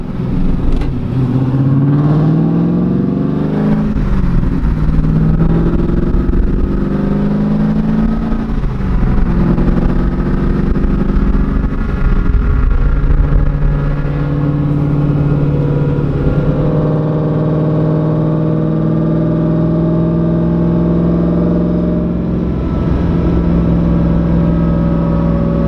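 F-Body car on new WS6 wheels cruising with a steady, loud engine drone and gear-shift rises and falls throughout, heard up close from inside with no talking.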